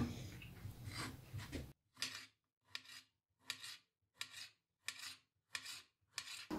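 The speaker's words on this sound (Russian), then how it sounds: "Так, почистили баклажаны, порезали соломкой." A knife cuts peeled eggplant into strips on a board, making about eight evenly spaced, crisp slicing strokes, quiet and close, after a short stretch of soft background noise.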